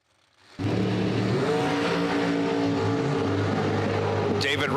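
A drag racing car, the SpaceX dragster, roars down the strip, its engine bursting in loud and steady after a brief quiet start and holding a dense, powerful drone throughout.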